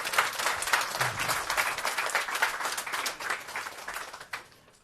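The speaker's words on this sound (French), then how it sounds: "Merci de les applaudir." An audience applauds as guests step onto the stage at a political interview event in Paris, steady dense clapping for several seconds that tapers off at the end.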